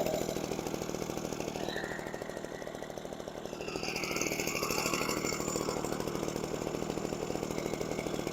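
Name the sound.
Echo PB413H backpack blower engine running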